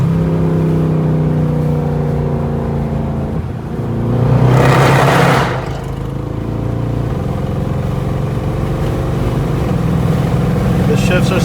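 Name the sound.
loud Mercedes C63 AMG engine accelerating and shifting gears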